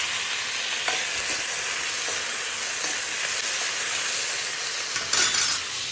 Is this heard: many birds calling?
no